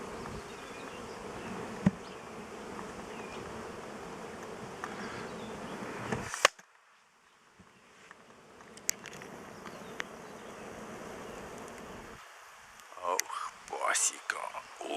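Bees at an apiary make a dense, loud, steady buzz for about six seconds, then the sound cuts away to a quiet scene with scattered faint buzzing, light rustles and a few voices near the end.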